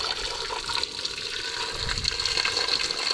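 Boiled water being poured steadily into a cooking pot, a continuous splashing rush that stays even throughout and close by.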